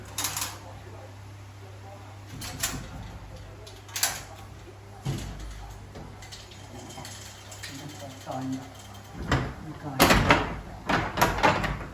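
A wooden door swings open onto the front balcony of a rural house, giving a few knocks and clunks with a louder burst near the end, set against a steady low hum while people talk throughout.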